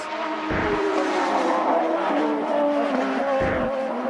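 A ChampCar race car screams past at speed during qualifying in Denver, a loud, high engine note rising and falling through gear changes, with brief dips at each shift.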